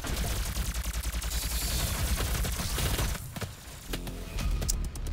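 Plasma gun firing in the Doom closed beta, a rapid pulsing stream of repeated shots, loud and close, breaking off briefly before a few more bursts, with no talk.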